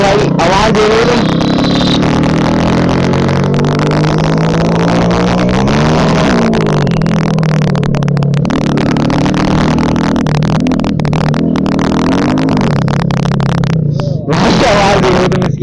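A Hero Splendor motorcycle fitted with an Akrapovic exhaust revs loudly and continuously, engine pitch rising and falling through several throttle blips and gear changes, close by and dominant, with someone talking briefly.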